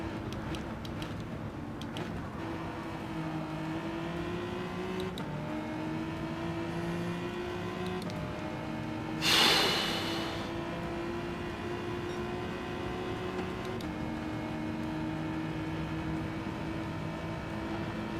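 A car driven off-road in the racing game Gran Turismo 7, a steady engine drone with stepped pitch changes through gear shifts and a brief burst of rough noise midway, fairly quiet.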